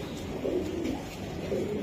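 Racing pigeons coo softly in a loft, a few low rolling calls repeating at a moderate distance with no talk over them.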